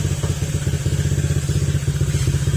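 A repaired motorcycle engine, rebuilt after knocking and burning oil, runs at a steady idle nearby, its fast, even, thumping pulse loud and alone.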